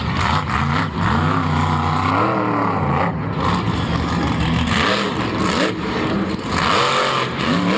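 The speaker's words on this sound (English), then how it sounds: "this truck seems to not be running as fluidly as it was" Monster truck engine at Monster Jam Orlando 2016, roaring loud and close with fluctuating revs that rise and fall unevenly, running rough rather than smoothly, with no voices over it.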